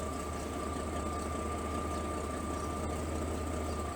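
Pickup truck engine idling with its stock exhaust, a steady low rumble with an even hum, running alone at a moderate level with no talk.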